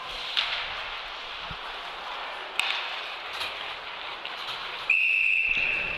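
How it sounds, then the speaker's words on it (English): A referee's whistle blows a single sustained shrill note toward the end, calling icing during an ice hockey game, over a steady crowd and arena din with a few sharp stick and puck clacks earlier. "that'll be whistled down for icing"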